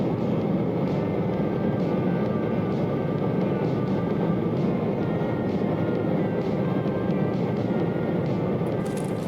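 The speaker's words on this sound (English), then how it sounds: "There's something beautiful about this plane flying through the night sky." A video game airplane flies through the night sky with a steady, continuous engine drone that stays loud and unbroken throughout, without speech.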